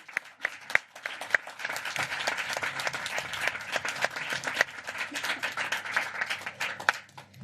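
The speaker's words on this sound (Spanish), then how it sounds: "Un aplauso por Carlos Eslepoy" Warm applause from an audience at a memory-and-democracy event in Argentina, dense steady clapping throughout with a few sharper individual claps standing out, no speech over it.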